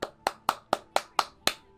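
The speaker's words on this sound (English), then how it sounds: "claps for you, man, for real." Seven crisp hand claps in a steady, even rhythm, close and fairly loud, with no talking over them.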